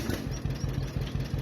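A farm tractor engine running at a steady, even chug with a regular low pulsing beat, close and moderately loud, with no speech over it.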